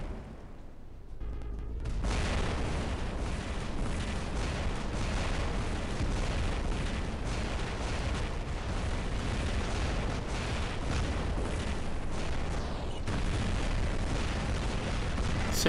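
Plasma prototype weapons fire in the War Robots video game, a dense, continuous barrage of booming energy blasts and bursts that runs nonstop after a brief quieter opening, loud and close with no talking.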